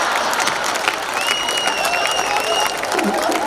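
An audience at a live Hindi poetry gathering applauds in a dense, continuous wash of clapping, loud and near, while a whistle-like melodic tone drifts over it.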